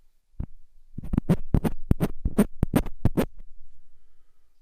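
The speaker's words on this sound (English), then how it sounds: "Here's a scratch test." A series of sharp scratching and tapping bursts on a microphone attached to an Osmo Pocket, close and loud, about a dozen irregular strokes with silence between them.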